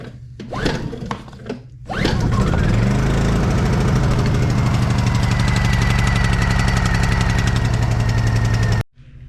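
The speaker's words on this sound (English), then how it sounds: "We'll give it a couple pulls. We'll even set the choke just to see what happens." Repaired generator engine being pull-started: a few quick rope pulls, then it catches and roars into a loud, steady close-up running drone for several seconds before cutting off abruptly.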